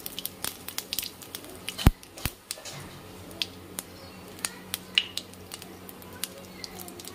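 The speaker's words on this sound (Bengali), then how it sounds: "জিরাটা একটু ভাজা ভাজা হয়ে গেছে," Cumin seeds splutter in hot oil left over from frying rohu fish for a light curry, giving sparse, sharp pops and crackles that are faint and irregular over a quiet background.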